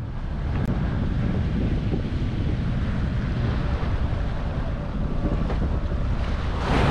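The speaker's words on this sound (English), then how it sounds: "But it is blowing like stink again. It's 25 knots out there." Strong wind of about 25 knots roars across a sailboat at sea, a loud, constant buffeting rush mixed with water and wave wash, with no speech.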